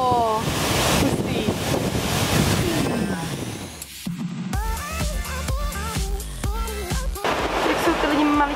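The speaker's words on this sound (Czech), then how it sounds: "Tady všude hrozně vody." Loud, continuous rush of a large body of water in New Zealand, roaring steadily throughout with gusts of wind buffeting the microphone and a person speaking briefly over it.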